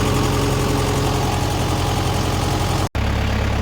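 A Kubota tractor engine idles steadily while warming up, its low, even rumble running without a break before a brief dropout near the end.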